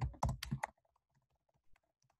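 Quick keystrokes on a computer keyboard while entering text into a Google Colab notebook cell, a brisk cluster of close clicks followed by a few sparse, fainter taps, with no voices.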